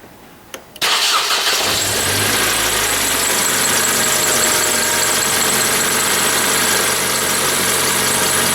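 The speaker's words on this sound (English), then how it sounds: "I'm just going to bring the engine revs up slightly" A Unit 153 railcar diesel engine, run during an alternator check, fires up after a couple of faint clicks and then roars loud and steady with a whining edge as the revs rise and hold.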